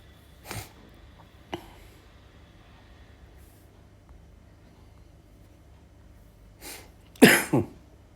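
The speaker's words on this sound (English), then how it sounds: "My coughing has significantly reduced" A few scattered coughs, two short ones early and a louder harsh pair near the end, in an otherwise quiet room.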